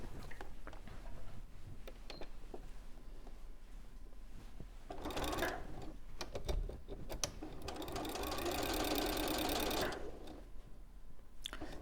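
A sewing machine stitches bulky bouclé fabric with a lengthened stitch, two bursts of rapid mechanical chatter, the second longer and louder, over a quiet room hum.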